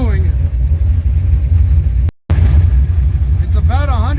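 A car engine idles steadily after an hour of running in 105-degree heat, a low continuous rumble close by that breaks off briefly midway, with a rising whine near the end.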